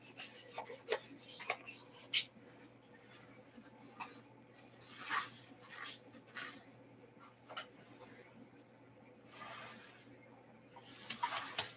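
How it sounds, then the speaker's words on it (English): Faint scraping and rubbing as a coating is worked around the inside of a cup before an acrylic paint pour, soft repeated rasps close by with some quiet background noise and scattered brief sounds. "I do rub it in because all I'm doing is coating the cup so the paint doesn't stick inside."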